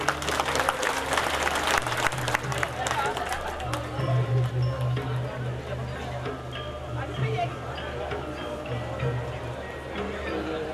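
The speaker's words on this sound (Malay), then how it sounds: "Kita berikan tepukan sekali lagi kepada penerima-penerima cabutan bertuah" Sustained applause from an audience for lucky draw prize winners at an entrepreneur information roadshow in Raub, Pahang, a steady wash of clapping lasting the whole stretch with a background hum and some chatter underneath.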